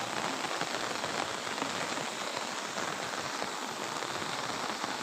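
Rain falling in a village, a dense, even patter of drops striking surfaces that holds steady and fairly loud throughout, with no talking.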